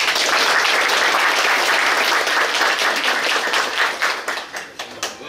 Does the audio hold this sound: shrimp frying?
no